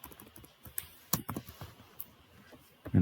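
Someone types on a computer keyboard in short, irregular bursts of close key clicks, with a few louder strokes and quiet gaps between them.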